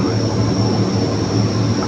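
Military aircraft engine running at an airport runway, a loud continuous roar with a steady low hum and a high whine, holding constant and close throughout.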